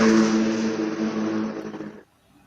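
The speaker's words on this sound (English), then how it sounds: "Yeah, the race car or whatever it was." A race car engine roars in a steady, loud rev for about two seconds, then cuts off abruptly into near silence.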